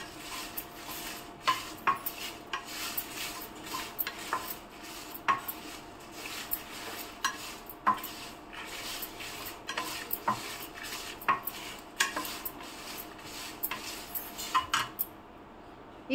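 Torn dried red chillies are dry-roasted in a pan while a metal spoon stirs and scrapes them. The scrapes come as a repeated rhythm of sharp clinks against the pan over a faint sizzle.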